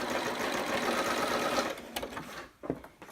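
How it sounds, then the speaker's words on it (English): A sewing machine back stitching a seam hums steadily and loud at close range for about two seconds, then slows and stops, and faint handling clicks follow. "And then I will back stitch again at the end just to make sure that gets nice and secure."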